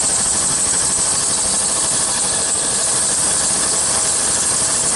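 A car air conditioning compressor runs during a Freon recharge, giving a loud, continuous broadband hiss and roar, steady and close with no breaks.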